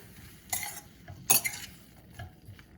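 Millet upma with vegetables stirred in a pan, two distinct scraping clinks of a utensil against the pan over a faint background hiss.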